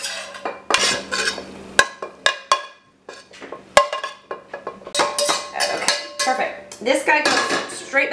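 Cooked spaghetti bolognese sauce is scooped from a pot into another container, with a steady run of metal spoon scrapes, clinks and knocks against pots and dishes, close and busy, with no talking.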